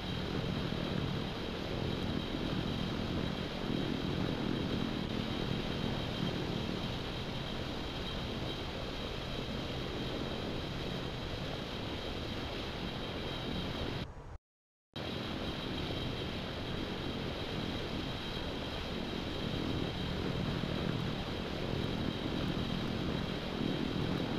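An aircraft taxis to the runway in the Infinite Flight video game, giving a steady, loud engine drone that holds evenly throughout, with a brief cut to silence partway through.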